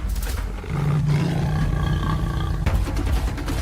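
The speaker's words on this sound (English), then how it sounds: "The roar tore through the air." A lion roars in the African grasslands, a deep, loud, sustained bellow that swells and rumbles for a couple of seconds, heard close and alone without any voices.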